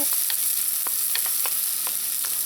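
Onion and garlic fry in a pan with a bright, constant hiss, broken by scattered crackles and pops.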